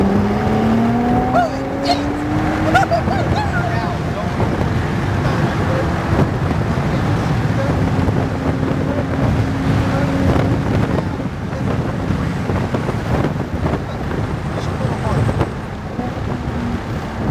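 A Ferrari accelerates on a race track with a steady, loud engine roar and rising revs, heavy wind buffeting over it, and a voice occasionally speaking through the noise.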